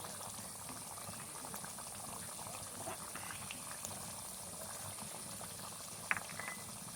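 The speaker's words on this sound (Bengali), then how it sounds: "ঝোলটা খুব ভালোভাবে ফুটে উঠেছে।" Curry gravy for a vegetarian potol paneer dish bubbles steadily in a pan, a soft continuous simmering burble with one brief louder pop near the end and no talking.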